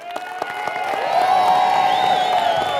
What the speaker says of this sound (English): Was that final applause good enough for the video, or do we have to do that again?